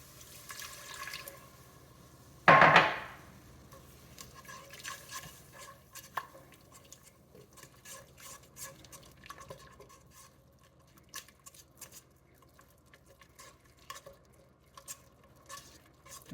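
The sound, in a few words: mixing a thick dough-like stew base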